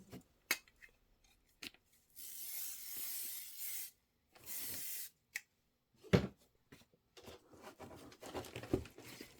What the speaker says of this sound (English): I'm going to give this a shot of spray too.